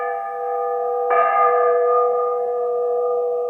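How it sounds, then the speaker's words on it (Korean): A church bell rings with a sustained, humming tone that swells at one fresh strike and then slowly decays, steady and fairly loud with no voices. "바닷가 모래밭에 앉아서 들은 교회당의 종소리였어"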